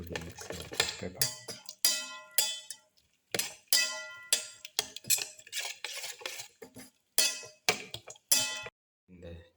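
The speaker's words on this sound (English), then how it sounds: "Mix in the black pepper with the rest of the mixture." A utensil clinks and scrapes against a bowl while black pepper is stirred into beaten egg for a chayote omelette, in short uneven bursts separated by brief pauses, close and clear.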